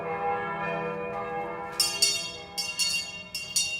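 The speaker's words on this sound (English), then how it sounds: "The Freedom Bell. Above your heads even now." The Freedom Bell tolls overhead with a series of loud, resonant strikes that begin partway through and repeat at an irregular pace, each ringing on into the next over a low steady hum.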